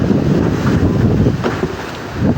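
Strong north wind buffeting the microphone over rumbling sea water and a rocking fishing boat, a loud continuous gusty roar with no voices.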